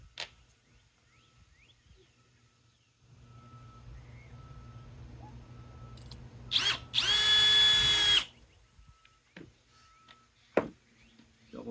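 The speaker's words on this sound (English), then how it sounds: "Now I'm just going to tap it down with 2 screws real quick." A power drill drives screws into the wood of a bottomless planter box, with a quiet idle hum first, then a loud whirring burst of about a second and a half, followed by a few sharp knocks and taps.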